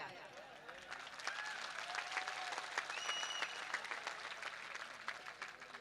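Applause from an audience at a public speech in Darbhanga, a steady wash of clapping at moderate level with some voices mixed in, lasting throughout.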